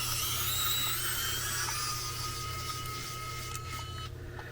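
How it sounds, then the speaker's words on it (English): A rechargeable electric screwdriver from a budget kit runs alone with a steady, high-pitched motor whine that stays constant and then cuts out near the end. "you can hear that lovely sweet sound of the motor"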